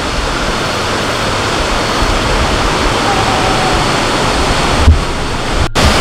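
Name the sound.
waterfall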